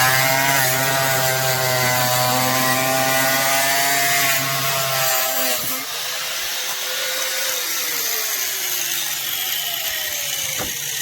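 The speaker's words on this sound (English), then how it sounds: "we need to cut this side of the bumper off so we can have something for our color match. Use my angle grinder" An angle grinder cuts through the bumper of a 2013 Toyota 4Runner with a loud, steady, close whine that holds for several seconds, then drops and wavers as the cut finishes.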